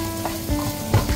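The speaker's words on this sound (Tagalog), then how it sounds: "So, we put the garlic first." Garlic sizzles and fries in hot oil in a pan for ginisang monggo, a steady close crackle with faint stirring scrapes and no voices.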